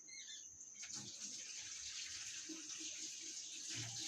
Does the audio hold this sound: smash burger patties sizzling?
no